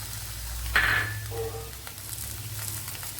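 Chopped tomato sautés in a pan for a cucumber pachadi, giving a steady close sizzle with a brief louder hiss as it lands and a few light stirring scrapes.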